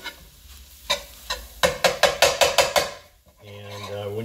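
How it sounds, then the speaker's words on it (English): Butter and flour stirred together into a roux in a pot for wild rice and corn soup: a quick run of rhythmic scraping strokes with a faint sizzle underneath, followed by a voice starting to talk. "butter and flour are going to bind and create what some cooks call a roux"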